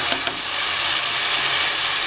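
Onions and tomato fry in a pan for coconut milk rice, giving a steady, dense sizzle that stays close and loud throughout with no talking.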